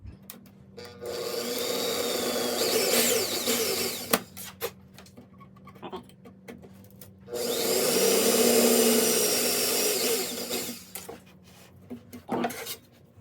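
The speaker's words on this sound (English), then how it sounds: "those two holes need to be enlarged using this drill bit" A power drill whirs loudly in two sustained bursts, each a few seconds long, enlarging two holes during transmission shift kit work, with brief clunks and handling noise in between.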